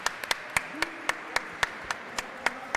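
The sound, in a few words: applause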